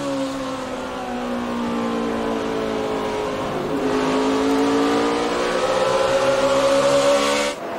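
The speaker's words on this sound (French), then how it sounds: "Jimmy Johnson, lui, regardez-le, qui dépasse Jeff Burton pour la troisième place" NASCAR Sprint Cup cars at Bristol during the Food City 500 roar in a continuous droning pack, engine pitch dipping and rising as cars pass close and loud, with no talk over it.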